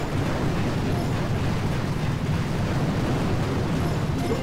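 Towers being blown up in the mobile strategy game Boom Beach, a loud continuous rumbling roar of explosions and artillery that blurs together without clear breaks.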